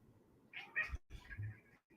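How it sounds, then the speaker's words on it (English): A cat gives a few short, chirpy meows in quick succession, soft and close, with no other sound around. "the cat is just has a lot to say to the birds right now"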